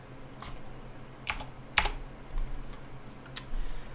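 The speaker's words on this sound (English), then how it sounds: "I will have to type some of this myself." Typing on a computer keyboard while writing Wiring code: a few separate bursts of keystrokes, close and fairly quiet, with short pauses between them and no talk.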